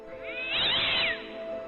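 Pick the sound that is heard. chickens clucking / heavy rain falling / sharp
sharp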